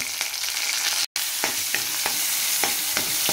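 Chopped onions and tomatoes fry in a hot pan with a continuous sizzle, broken by repeated scrapes and clacks of a spoon stirring them, with one brief cut to silence early on.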